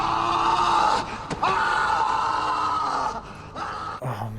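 A man's drawn-out scream from a battle scene in the movie 300, loud and sustained with a sharp break partway through and a fading, strained tail.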